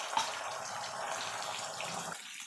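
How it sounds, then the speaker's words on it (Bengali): Beaten eggs with salt sizzling in hot oil in a wok, a close, continuous hiss and crackle with a faint pop at the start, easing slightly as the frying settles. "এবার ডিমটাকে ভেজে নেব।"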